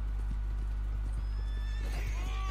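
A horse's hooves clip-clop rapidly in Red Dead Redemption 2 while it gives a neigh near the end, steady and close over a low constant hum.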